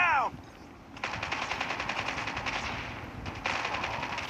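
Rapid automatic gunfire from Call of Duty Mobile on a smartphone, fast bursts of shots rattling in quick succession with short pauses, fairly quiet, with a voice briefly heard at the start.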